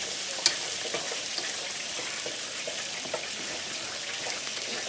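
Fresh Brussels sprouts pan-fry in a skillet with a steady, close sizzling hiss that holds evenly throughout, broken only by a few small pops and crackles.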